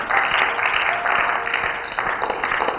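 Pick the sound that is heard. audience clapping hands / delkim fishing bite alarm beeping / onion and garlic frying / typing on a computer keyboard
audience clapping hands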